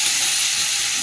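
Chopped onion hitting hot oil in a wok with black cumin seeds, producing a loud, dense, continuous sizzle that stays steady and close for the whole brief moment.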